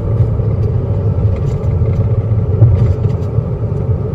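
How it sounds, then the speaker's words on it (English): Steady road noise from 285 tires on a Toyota Tacoma, heard as a continuous low rumbling drone with an even, unbroken texture from inside the vehicle, fairly loud and alone. "these tires are definitely pretty loud on road"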